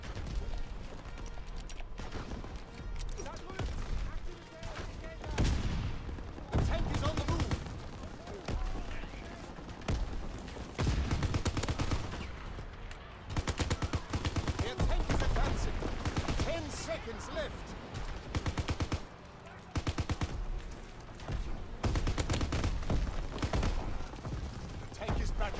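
Dense in-game gunfire from Call of Duty WWII, shotgun or light machine gun blasts and bursts firing in irregular clusters over a constant battle din, with a player talking throughout.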